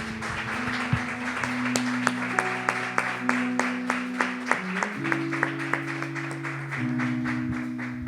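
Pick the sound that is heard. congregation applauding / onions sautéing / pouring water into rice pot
congregation applauding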